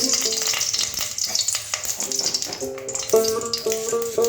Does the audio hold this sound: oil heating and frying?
yes